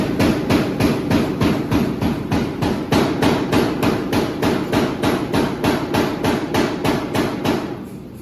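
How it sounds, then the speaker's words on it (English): At a blacksmith's metal forging demonstration, a hammer strikes hot metal in a steady, fast rhythm of about two sharp ringing blows per second, loud and close, continuing without pause. "they were doing some metal forging and blacksmith."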